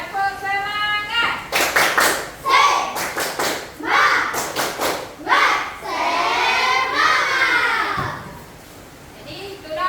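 A classroom of children performs a rhythmic patterned clap in several quick bursts, mixed with kids' voices calling out and chanting between and over the claps.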